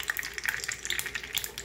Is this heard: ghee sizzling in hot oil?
yes